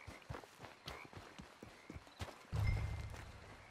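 Horse hooves clip-clop in the Red Dead Redemption 2 video game, a quick, regular trotting rhythm of distinct hits, followed by a louder low rumble of movement in the last second.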